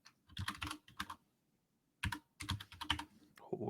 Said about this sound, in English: Who's doing the typing?